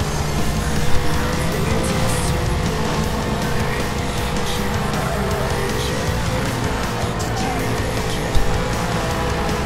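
Racing cars roar in a police pursuit in the Need for Speed Hot Pursuit Remastered video game, with dense, loud engines and occasional tire noise, continuous throughout.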